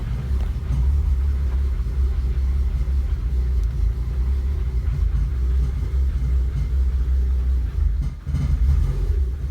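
A car engine runs steadily after an all-wheel-drive swap, a loud, constant low rumble close by with a brief dip near the end and no speech over it.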